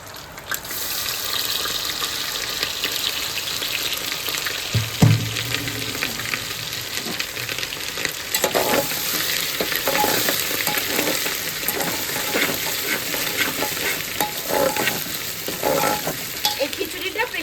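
Whole spices, garam masala, cumin, ginger, dried red chillies, bay leaves and green chillies crackle in hot oil as a tempering for khichuri, a continuous close sizzle with occasional stirring clatters and a sharp pop, no talking.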